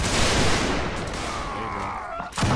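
A ragged musket volley fired on command in a multiplayer line-battle game, a loud crackling burst of many shots overlapping for about two seconds, followed by one more close report.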